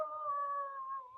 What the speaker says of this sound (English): The dogs are barking, man.